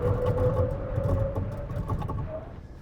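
A 2024 Chevy Colorado ZR2 Bison pickup truck accelerating hard from a stop, its steady engine drone and low road rumble filling the cabin at close range, with no one talking.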